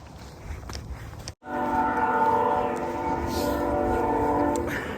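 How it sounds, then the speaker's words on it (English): A train passes some way off below a hillside trail above a town with a railway station, its steady rumble and layered horn tones sustained and strong for several seconds, with a brief hush just before it swells in. "Hear the train off in the distance"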